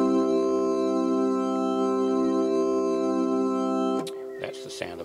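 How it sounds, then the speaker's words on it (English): Technics U90 organ sustaining a chord with the chorus effect on a slow rotor, rich steady harmonics with gentle swirling modulation for about four seconds, then cutting off into a brief quieter tail. "that's the sound of a slow rotor"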